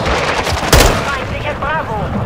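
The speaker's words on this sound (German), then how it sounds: "Blendgranate geworfen!" A flashbang grenade in Call of Duty: Modern Warfare 2 multiplayer goes off as one sharp, loud burst about a third of the way in, set among ongoing game gunfire and noise, with voices over it.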